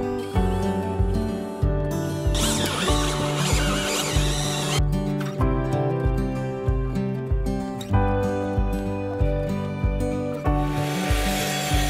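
A timber porch frame is drilled through, the bit grinding rhythmically through the wood in repeated pulses of close, loud, rough cutting noise, with no talking.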